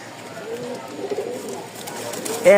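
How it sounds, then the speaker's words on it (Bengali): A pair of fancy pigeons coos softly in a loft, the low, rolling calls steady throughout with a voice talking nearby. "আমাদের এখানে বেশ কিছু কবুতর আছে।"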